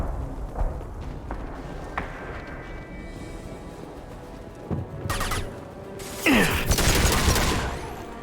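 Gunfire from a gun in Mass Effect 2 rings out as scattered shots through the first half, then a louder, sustained burst of weapon fire and explosive blasts near the end, with no talking.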